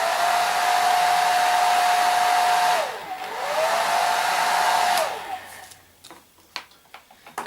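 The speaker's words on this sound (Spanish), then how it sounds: "Dejamos bien secar con la ayuda del secador." A hair dryer blows loudly and close to dry paint on a figure's face, running steadily, briefly cutting out and restarting, then switching off, followed by a few small taps and clicks.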